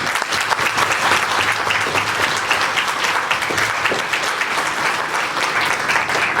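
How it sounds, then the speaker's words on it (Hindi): Steady, dense applause from a church congregation for Jesus during a service in Punjab, loud and continuous throughout without any speech. "अब पहले मेरे यीशु के लिए ताली हो जाए।"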